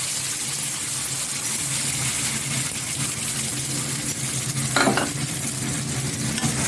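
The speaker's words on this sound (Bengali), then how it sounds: "ভালো করে কষিয়ে নিতে হবে।" Spice paste for stuffed pointed gourd sizzles and fries in hot oil in a pan, a steady, close crackle with brief stirring scrapes partway through.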